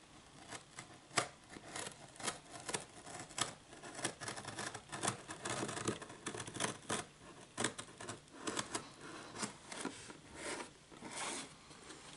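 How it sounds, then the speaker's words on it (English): Repeated crisp snipping and crunching of old scissors cutting through a jigsaw puzzle, irregular cuts close by with short pauses between, no voices. "I'm thinking maybe we can cut through it. So I have some scissors."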